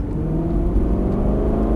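An Aston Martin accelerates on a racing circuit, its engine giving a steady, loud mid-pitched drone that holds close throughout, with no talk over it.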